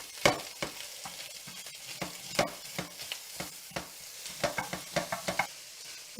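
Sweet mild Italian sausage meat browning in a pan, a soft low sizzle punctuated by sharp spatula scrapes and stirring knocks in irregular bursts, close but fairly quiet, with no talking.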